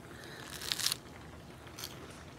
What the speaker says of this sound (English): You heard me crunch?